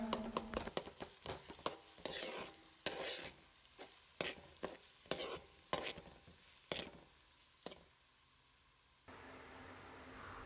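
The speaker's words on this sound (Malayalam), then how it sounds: "ഇതിലേക്ക് നേരത്തെ ചതച്ച് വെച്ച വെളുത്തുള്ളി ഇഞ്ചി പേസ്റ്റ് മുഴുവനും ചേർത്ത് കൊടുത്തോ നല്ലോണം ഒന്ന് ഇളക്കി യോജിപ്പിച്ച് മൂപ്പിച്ചെടുക്കണം" Crushed garlic and ginger paste is stirred and fried in a pan for a beef pickle: a quick series of sharp spoon scrapes over a soft sizzle, then a short steady hiss at the end.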